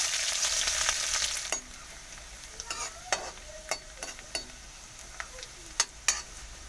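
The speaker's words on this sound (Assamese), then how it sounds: "এতিয়া পিঁয়াজখিনি দি দিছোঁ তেলত" Onions hitting hot oil with dried chillies in a kadai for Assamese pork curry, giving a loud initial sizzle that settles into a steady fry, punctuated by several sharp clicks and scrapes of a spatula against the pan.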